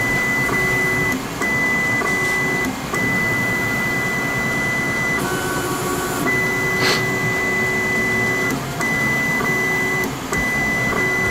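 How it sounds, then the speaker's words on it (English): A Voron 2 3D printer homing its nozzle and probing the bed, with a steady whirring fan hum and stepper motors whining in tonal bursts that start and stop at intervals, close up. "It's going to home the nozzle, and it's going to go grab the probe and do a QGL."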